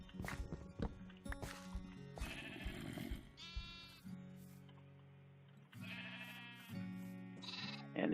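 Minecraft sheep bleat repeatedly in a blocky game world, several short wavering calls near and loud over a layer of game sounds and footsteps, with no talking.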